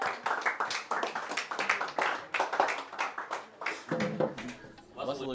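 An audience at a Latgalian prose reading event claps in a steady burst of applause lasting several seconds, dense and fairly close, with a voice speaking as it fades.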